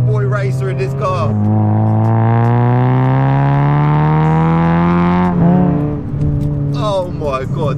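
A Toyota Yaris T Sport's engine and loud exhaust drone as the car pulls away. The pitch climbs steadily through one long, strong rev, then drops at the gear change before picking up again. The sound is close and dominant.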